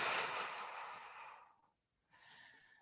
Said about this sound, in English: You can probably hear my very loud breath.